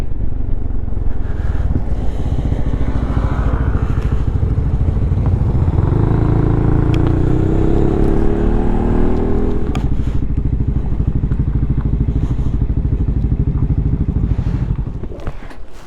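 A Honda ADV350 scooter ridden along a road near a dam in Ubon Ratchathani, its engine a steady close drone with wind rush and clatter throughout, easing off at the very end.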